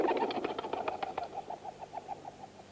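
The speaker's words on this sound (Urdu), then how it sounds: "یہ کبوتر بھی کسی زندہ مقام کی طرف اڑ کر جا رہے ہیں۔" Pigeons fly, with a quick burst of fluttering wingbeats first, followed by a soft, rhythmic run of cooing pulses. The sounds are fairly faint, with no voices.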